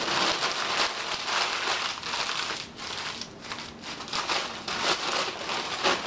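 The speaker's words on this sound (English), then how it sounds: "So I crumple it and then open it" Paper being crumpled by hand to bulk up a papier-mâché armature for an alebrije figure, a dense continuous crinkling and crackling that runs steadily throughout, close and fairly loud with no talking.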